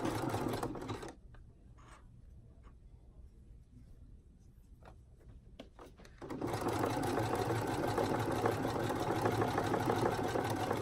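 A sewing machine stitches a folded elastic waistband onto bikini bottoms, running in short bursts at first and then as a steady, loud continuous hum for the final stretch, with no talking.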